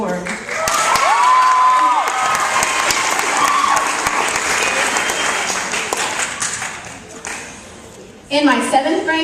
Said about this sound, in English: Susan, get ready to clap again